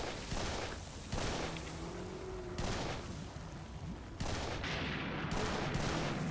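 Gunfire in the shooter Serious Sam 3: BFE, a dense run of shots and blasts across several bursts, loud and close, with a faint voice briefly underneath.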